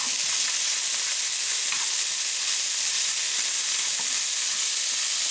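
Onions fry in a pan with a constant, even hiss of sizzling, bright and close, with no stirring accents or voices standing out.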